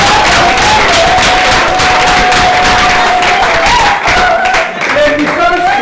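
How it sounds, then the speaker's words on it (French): An audience at an academic opening ceremony applauds new master's students, giving dense, sustained clapping close by that fills the whole stretch, with a tonal hum and brief voices mixed underneath. "Nous allons applaudir pour les nouveaux étudiants en master."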